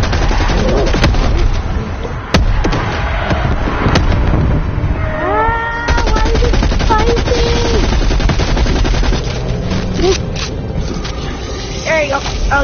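Rapid automatic gunfire from a PS4 shooter game rattles in dense bursts throughout, loud and close, with voices talking over the shooting.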